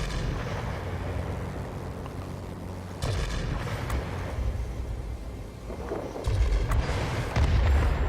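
Cannon fire from a Ta-152 fighter plane in World of Warplanes, heard as loud, heavy booming bursts over a constant engine drone, with two stronger volleys in the second half.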